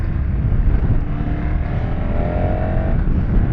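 A KTM 1190 Adventure with a 1190 cc twin-cylinder engine, running steadily under riding, gives a continuous low rumble with a faint rising whine over it. No one talks.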